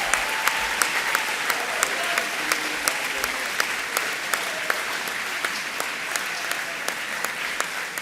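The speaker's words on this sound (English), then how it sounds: "Give them a round of applause." Audience applause for the 2023 leaving class of Scaddings House at a graduation ceremony, steady clapping from a crowd throughout, with a few sharper, nearer claps standing out in a regular rhythm.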